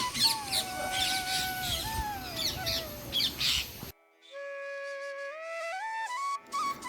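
Birds chirp and call in the background through a noisy outdoor scene at Laxmivadi, Gadhapur, then a clearer run of tonal, warbling parrot calls follows against near silence.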